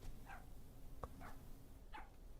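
In an itch.io horror video game, a dog gives three short barks, faint and distant against a low, steady ambient hum.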